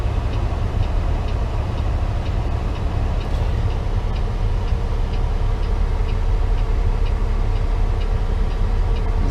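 A truck rolls down a dirt road, heard from inside the cab as a steady low rumble with a constant road roar and faint rhythmic ticking. No voices.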